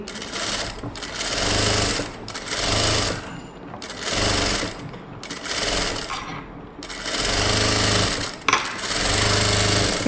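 A sewing machine runs in several loud, close bursts while stitching the sleeves of a synthetic-lining blouse, its rapid mechanical chatter starting and stopping between short pauses.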